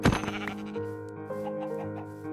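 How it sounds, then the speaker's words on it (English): Sheep bleating in the Minecraft video game, a short nasal cry at the start that fades into steady in-game background tones. "Or a sheep."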